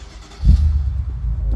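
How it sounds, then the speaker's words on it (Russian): A BMW M5 engine starts up, a sudden deep bass rumble that settles into a loud, steady low idle, close by with no talk. "Мы запускаем мотор."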